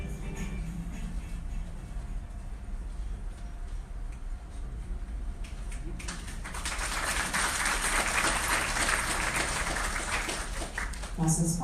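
Audience at a building managers' conference breaks into applause of thanks for a speaker, a dense wash of hand clapping swelling partway through after quieter room sound.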